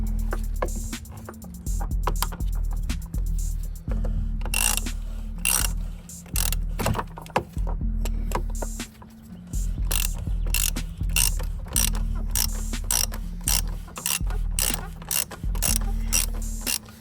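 Rapid ratchet clicking from a 24 mm socket loosening a car's oil filter, in dense repeated bursts with brief pauses, close and fairly loud over a low steady hum.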